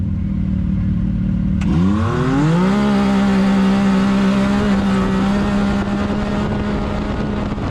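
A side-by-side (SXS) short-course race vehicle engine at Northern Power Race Park idles, then revs up sharply and holds a loud, steady high drone close by with no talk.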